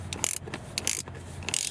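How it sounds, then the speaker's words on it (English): A ratchet fitted with a small extension and a 24 mm socket turns the oil filter housing on a Volvo XC, giving close, rapid clicking ratchet bursts in three quick rounds with no talk. "We're using a small extension and 24 millimeters socket."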